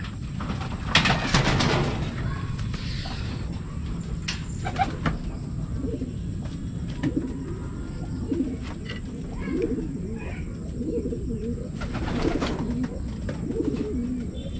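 Racing pigeons coo repeatedly nearby in soft, throaty bursts, with occasional wing flaps and light background rustling, as they are loaded onto a truck for club training.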